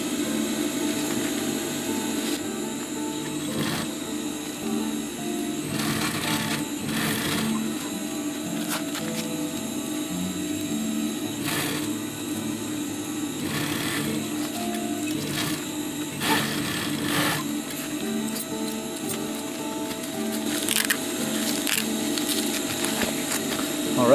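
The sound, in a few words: sewing machine stitching a utility pouch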